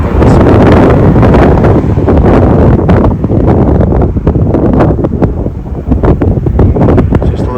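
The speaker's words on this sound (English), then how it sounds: "Just a little windy." Strong wind gusts buffet the microphone beside a lake in Waterton National Park, a loud, continuous roar with rumbling low-end bursts that persists through the whole stretch with no one talking.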